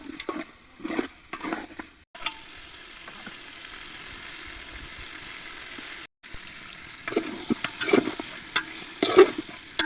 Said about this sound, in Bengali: তো আস্তে আস্তে অল্প জালে এখন কষাই নেব মাংসটা।